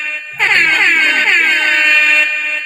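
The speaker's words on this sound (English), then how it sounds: "Give yourself an air horn, man." A loud air horn blares after a short pause, holding one long sustained blast for about two seconds.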